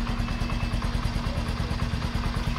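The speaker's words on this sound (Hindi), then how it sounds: "अब एक बार इसका अपन इंजन साउंड सुन लेते हैं।" A Bajaj Platina 100cc motorcycle engine idles close by, a steady, rapid single-cylinder putter with a light mechanical clatter, even and unbroken throughout.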